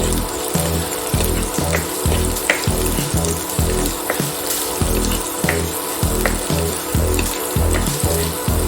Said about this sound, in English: and just saute it for 2 minutes.